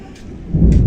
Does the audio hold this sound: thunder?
yes